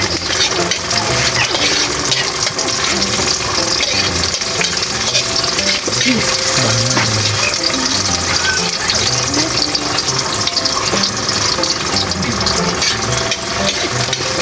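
Garlic and onions sauté in a pan while cooking a sauce of crow meat, a loud and continuous sizzle with stirring scrapes, and voices murmuring underneath.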